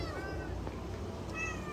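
Shelter kittens in an isolation room meow repeatedly in short, high cries over a steady low background hum, with several overlapping mews near the start and end.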